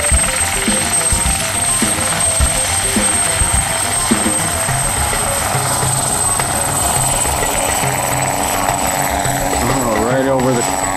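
A helicopter's steady, heavy rotor drone fills the scene at a convention, loud and continuous, with people talking over it.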